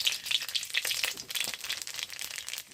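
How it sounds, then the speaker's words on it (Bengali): Nigella seeds fry in hot oil in a pan for a village-style small fish curry with potato and tomato, giving a close, continuous crackling sizzle with sharp little pops and no talking. "কালি জিরে পোড়া দিলাম"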